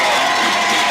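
Crowd noise at a high school football game on a cool October evening, Malvern at Mena, a broad steady roar of cheering voices from the stands with no distinct single shouts, lasting about a second.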